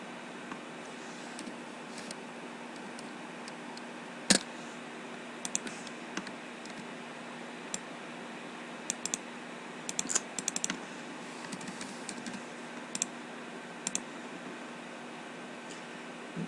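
Typing on a computer keyboard, faint irregular clicks and key taps in short bursts with pauses, over a low steady background hum, no talk.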